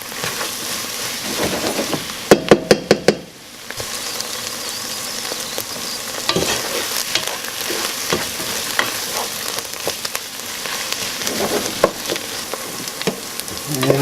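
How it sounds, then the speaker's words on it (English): Onions browning in a pan for French onion soup, with a steady sizzle and frying crackle under repeated stirring scrapes, plus a burst of sharp clicks early on. "And then just keep on stirring"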